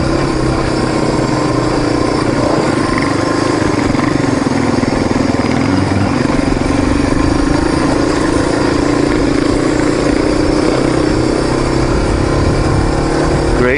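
Several Husqvarna motorcycles ride past on a mountain trail, a steady loud engine drone throughout with rising revs near the end and some faint voices underneath.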